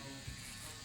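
An Andis reSURGE electric shaver runs with a steady, close, low buzz that holds evenly through a brief stretch. No one talks over it.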